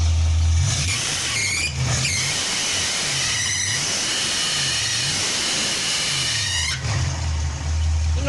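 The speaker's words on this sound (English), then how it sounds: "Ah, the belt squeak." A worn engine belt on a running 1966 Ford Mustang squeals in short repeated chirps over a steady idling engine, loud and close.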